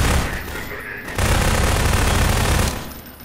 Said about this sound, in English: You got so many guns shooting at me.